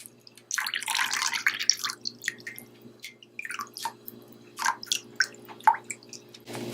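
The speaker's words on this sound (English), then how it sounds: "I'm gonna strain my rice water." Rice water pours and splashes through a strainer, then settles into scattered close drips and small trickles, fairly quiet.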